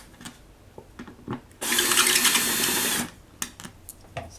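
A power tool whirs in a single burst of about a second and a half, removing screws while a Shuanghu LR103 gaming chair is put together, framed by small clicks and handling noises close by.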